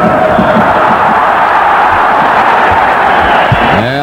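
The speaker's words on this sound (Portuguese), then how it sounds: "A torcida já se manifesta pedindo uma marcação de uma falta ali de Helmer, na entrada da área." A packed stadium crowd at a 1993-94 Bundesliga match between Bayern Munich and Schalke 04, roaring and shouting for a foul at the edge of the box, a loud, dense wall of voices that swells steadily throughout.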